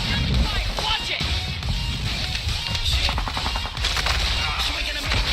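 Rapid machine gun bursts and single gunshots in a Call of Duty match, dense and close, firing in uneven rhythms with voices talking through the clatter.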